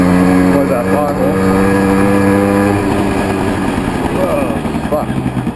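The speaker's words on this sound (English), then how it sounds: "I'm just starting to get into the revs and hitting the power band in second gear" A small 50cc Tomos LX moped engine revs loudly and close in second gear, its pitch climbing as it pulls hard into the power band, with a brief voice under the engine noise.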